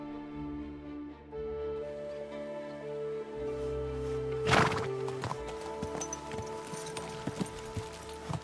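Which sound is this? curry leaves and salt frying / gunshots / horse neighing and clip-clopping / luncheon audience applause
horse neighing and clip-clopping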